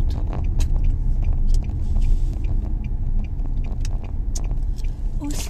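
A car rolls in slowly to park, a steady close low engine rumble with light tyre and body clicks throughout, no voices.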